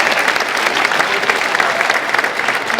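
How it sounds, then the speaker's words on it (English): An audience claps steadily and densely at a high school Martin Luther King Jr. assembly, a full, close wash of applause with no break. "Let's give him a good round of applause."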